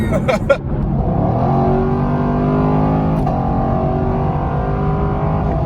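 A 2021 Chevrolet Camaro LT1 with a 6.2-liter V8 hums steadily while driving, its low engine drone and road rumble continuous from start to finish, with a brief knock near the beginning.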